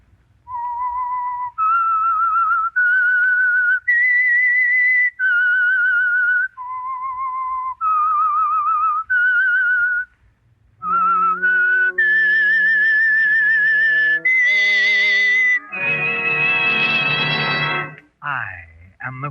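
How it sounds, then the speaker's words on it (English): The whistled signal tune opening The Whistler, a 1948 Signal Oil radio drama: a clear solo melody of sustained whistled notes in a steady rhythm, then joined by orchestral music that swells to a loud chord at the end. "That whistle is your signal for the Signal Oil program,"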